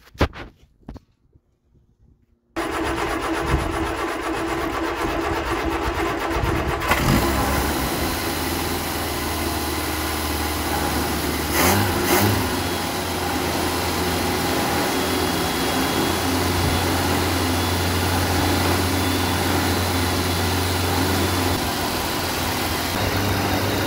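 A 1975 car engine fitted with a Weber carburetor and Edelbrock intake starts after brief clatter, then idles high and steady for about twenty seconds, a loud continuous rumble close by with no talk.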